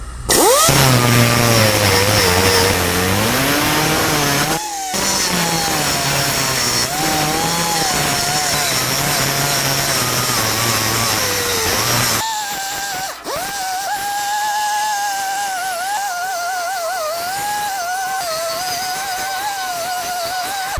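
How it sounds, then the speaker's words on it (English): Spot welds on metal ground down with a power grinder, a loud continuous whine with pitch dips as the disc bites, one brief break, then a lighter steadier grind. "Finally, we just grind our spot welds down."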